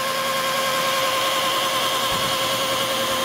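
A power polisher buffs a heavily oxidized, scratched aluminum trailer surface, giving a steady, loud motor whine with a high tonal hum and faint squeal, constant throughout with no talking.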